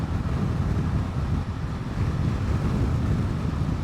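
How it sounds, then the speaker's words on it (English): A strong gust of wind buffets the microphone while riding outdoors on a warm day in open country, a loud, continuous, rough roar that fills the whole clip. "Oh, what a wind blast."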